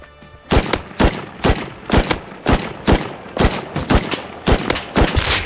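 Gunfire in the video game Rust: evenly spaced single shots, about eleven loud sharp cracks in steady rhythm with little else around them.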